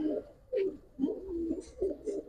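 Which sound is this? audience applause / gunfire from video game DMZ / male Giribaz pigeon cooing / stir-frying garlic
male Giribaz pigeon cooing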